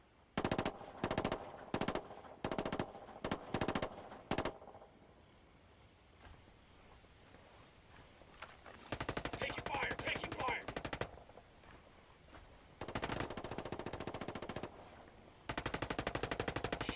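Bursts of automatic machine gun fire in the video game Ghost Recon Wildlands, several rapid rattling volleys with short gaps, loud and close, with quieter stretches between the bursts.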